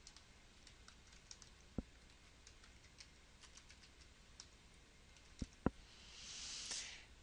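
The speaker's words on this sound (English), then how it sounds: "I would then go and click on that button and type in my email address." Typing an email address on a computer keyboard, heard as faint, quiet key taps spread sparsely across a quiet room, with a couple of sharper clicks near the end and a soft rushing noise at the very end.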